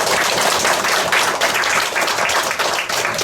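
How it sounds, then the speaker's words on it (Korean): A hall full of people at an international theological school graduation ceremony breaks into sustained, dense applause, loud and continuous throughout with no speech over it. "전체 한번 박수 한번 해주세요"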